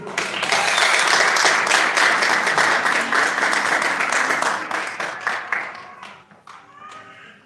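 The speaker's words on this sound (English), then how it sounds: "can we have a big round of applause for Joanna Zedi?" A big round of applause from an audience at a Pakistan Resolution Day flag-hoisting event, loud and dense at first, then thinning out over several seconds before a voice starts at the end.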